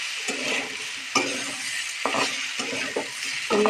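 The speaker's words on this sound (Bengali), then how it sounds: "আদা রসুন দিয়ে খানিকক্ষণ নাড়তে থাকবো, আদা রসুনের গন্ধটা মরা পর্যন্ত।" Ginger and garlic frying in a pan while being stirred, with a steady sizzle and several sharp scrapes and clinks of a utensil against the metal, close up and without talking.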